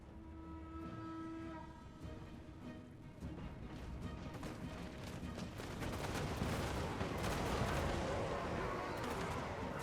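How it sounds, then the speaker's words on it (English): A salvo of grenade-launcher blasts from Outriders in the fantasy strategy game Total War: Warhammer 2, booming as a dense rumbling barrage that builds louder over a steady battle din, with no talk. "Laying down a little grenade salvo."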